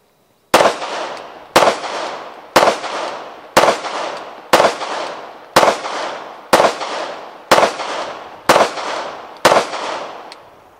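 Ten sharp, loud gunshots ring out from a Glock 19 pistol at an evenly spaced, steady pace of about one per second, each crack trailing off into a brief outdoor echo.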